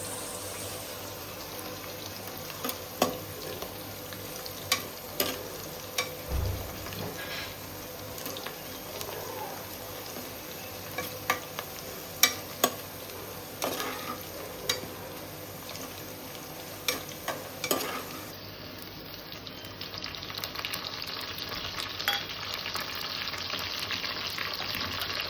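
Onions fried golden with ginger paste added in a pan for bagara rice, a steady sizzle punctuated by sharp stirring scrapes and clinks, followed by running tap water near the end.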